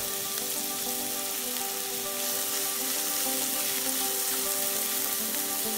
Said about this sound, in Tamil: இப்போ நல்லெண்ணெய் சூடானதும் வெங்காயத்தை போட்டு வதக்கி கொள்ளுங்க.